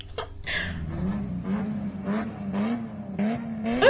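A car engine revving repeatedly at the Martinique carnival, a low droning motor rising and falling in short bursts, with sharp crackling pops over it and no talk.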